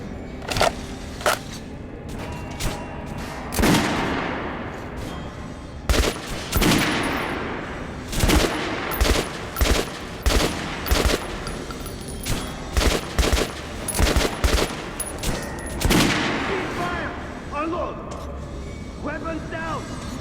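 Gunfire volley in Metro Last Light Redux on a practice range: repeated sharp shots and bursts crack out in uneven clusters, loud and close, with voices talking between and under the firing.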